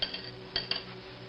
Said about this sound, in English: And so now I use my whisk